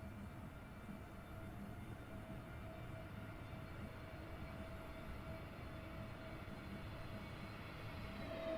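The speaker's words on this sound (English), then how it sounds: "I actually want to hear the airplane kind of going overhead" Airbus A320neo in British Airways livery in Microsoft Flight Simulator, flying London Heathrow to Turin, heard as a steady broad engine roar with a thin whine on top, swelling slightly toward the end, with no voices.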